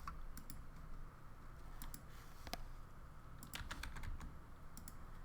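Python code being typed on a computer keyboard: quiet, irregular bursts of key clicks, sometimes single taps and sometimes quick clusters, over faint room hiss with no speech.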